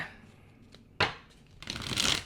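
Tarot cards shuffled by hand in a quiet room, a soft riffle then a louder, longer burst of riffling, close and alone with no talking.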